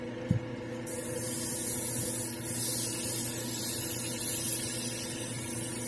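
An airbrush loaded with green resin paint sprays in a steady, continuous hiss close by, holding level for about six seconds after a brief click at the start, with a faint hum underneath.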